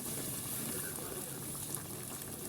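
Boiled water is poured into a cooking pot, giving a steady, close gushing splash that holds evenly throughout.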